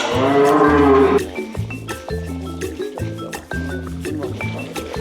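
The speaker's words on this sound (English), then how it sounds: "They're assisting with the birth of a cow." A cow moos loudly and repeatedly while ranch hands assist in delivering her calf, with long, strained bellows close by and people talking over them.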